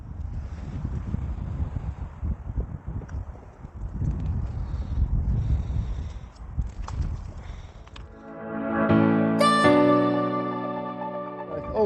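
Strong wind buffets the microphone on a golf course in Lee, a low, rough, gusting rumble for about eight seconds before other, more tonal sounds take over.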